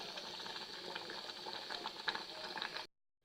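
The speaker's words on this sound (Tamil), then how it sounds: "ஒரு 2-3 நிமிஷம் நல்லா கொதிக்கட்டும்." Steady bubbling and simmering of vegetable kootu in a pot, a continuous close rumble that cuts off abruptly near the end.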